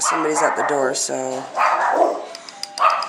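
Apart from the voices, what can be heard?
dog barking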